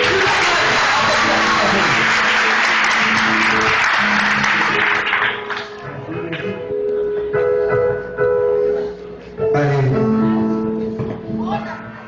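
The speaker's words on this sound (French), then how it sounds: "applaudissez s'il vous plaît" Loud church congregation applause with cheering and whoops at a worship service, dense clapping that thins midway, then swells again with shouted voices and singing over it.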